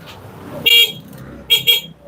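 Horn of a Tuscany 150 motorcycle sounding in three short bright honks: one longer blast, then two quick beeps close together, loud and near over a low background rumble.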